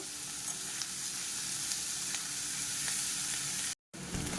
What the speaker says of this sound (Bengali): পেঁয়াজটাকে আমি ব্রাউন ব্রাউন করে বেশ সুন্দর করে ভেজে নেব